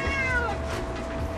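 A pet cat lets out one drawn-out, falling meow close by, loud and alone, with no talk over it.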